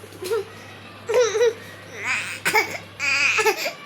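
Children babbling, crying and giggling in a home, several short bursts of high voices over a steady background hum, fairly close and loud.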